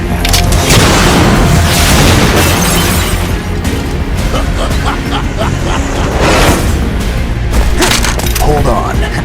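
Gunfire in Metal Gear Solid 2 breaks out as repeated sharp booming shots and cracks in quick bursts, loud and close, mixed with tense dialogue voices and game music.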